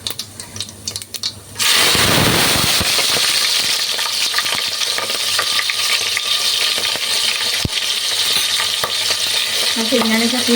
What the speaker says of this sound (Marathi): जिरं तडतडल्यावरती मग मिरची घालू